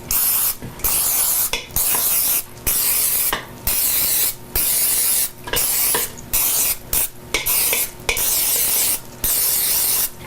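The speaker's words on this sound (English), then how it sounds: "I'm going to spray" Cooking spray hisses from an aerosol can into a muffin tin in short repeated bursts, roughly a dozen sprays separated by brief pauses, loud and close.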